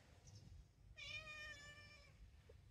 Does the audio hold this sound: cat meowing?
yes